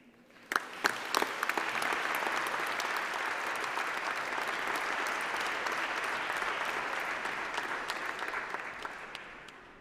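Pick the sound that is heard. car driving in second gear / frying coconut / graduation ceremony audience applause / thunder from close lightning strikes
graduation ceremony audience applause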